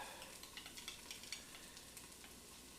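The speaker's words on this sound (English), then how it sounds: "we've got this stuff all sizzling, hot, and heating up." Steady crackling sizzle of taro root and potatoes frying in a pan, with a few soft stirring scrapes and pops over a constant hiss.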